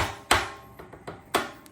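Sharp metallic knocks and taps from a claw hammer working a baffle out of a motorcycle exhaust, a few irregular close strikes, two of them louder than the rest.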